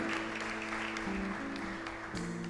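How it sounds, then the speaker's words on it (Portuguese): Church congregation applauding at the close of a sermon, brief steady clapping over a sustained organ-like musical tone with shifting pitches. "Vamos aplaudir Jesus Cristo"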